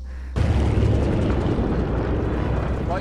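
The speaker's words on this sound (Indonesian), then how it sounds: "Pesawat itu pun kemudian terbang merendah, memisahkan diri dari rombongan." A World War II propeller airplane flying low: a loud, steady roar that starts abruptly and holds at full strength, close and dense, with no voices over it.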